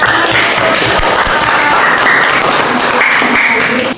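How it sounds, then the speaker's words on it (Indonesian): Students in a classroom clap after a presentation, a brief burst of loud, dense applause lasting a few seconds close by, with voices faintly mixed in. "Ya, tepuk tangan."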